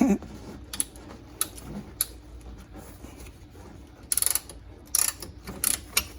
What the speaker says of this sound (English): it's a spreader. See how it's spreading them brake pads?